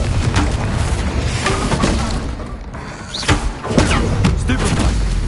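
Confringo spell blasts in Hogwarts Legacy combat: a dense series of booming, crackling impacts and shattering thuds, with louder hits near the middle and end, amid busy game noise and some voice.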